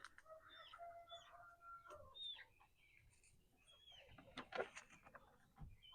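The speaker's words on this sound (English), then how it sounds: "Having troubles with my little chickens." Backyard free-range chickens cluck and chatter faintly in short, scattered bursts, with a few sharper squawks, heard from a distance.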